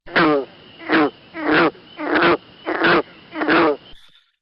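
Six twangy, resonant frog calls repeat at a steady pace, each a short plucked-string boom, loud and close with quiet gaps between.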